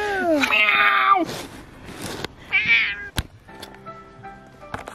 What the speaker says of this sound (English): It's a little fat, weird cat.